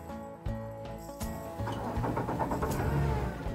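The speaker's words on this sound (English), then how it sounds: "Now go ahead and turn the key and get the engine started." A boat engine cranks with a key and catches, turning over a few times before settling into a steady low idle rumble, close by with no talk.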